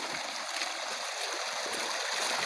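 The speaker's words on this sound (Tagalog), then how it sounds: "Malalim na yung ilog na dinadaanan namin." A deep river flowing along a rocky trail on the way to a canyon cave, a steady close rushing and gurgling wash of water with no pauses and no voices.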